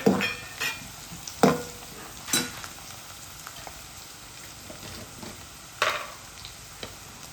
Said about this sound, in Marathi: कांदा आणि लसूण छान असं परतून घ्यायचं आहे